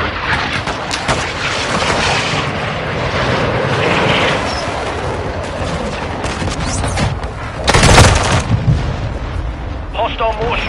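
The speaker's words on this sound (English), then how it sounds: "Hostile mortar strike in the area." Mortar strike in a Call of Duty match, with a dense stretch of explosions and gunfire rumbling continuously and a louder blast near the end, along with game radio voices.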